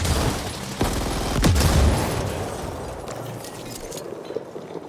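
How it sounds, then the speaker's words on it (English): In the Ascent video game, turrets fire guns in rapid bursts of overlapping shots and impacts, with one heavier boom partway through, loud and close, and no one speaking. "Getting shot by my own turrets."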